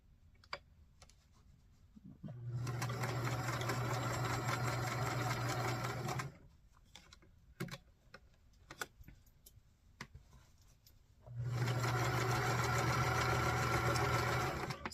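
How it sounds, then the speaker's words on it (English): A sewing machine stitches quilt background squares in two sustained runs, each several seconds long and steady, separated by quiet handling clicks and fabric rustle, close and clear. "Now we are going to sew on the second 2 background squares."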